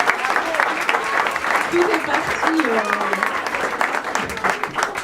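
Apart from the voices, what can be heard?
audience applause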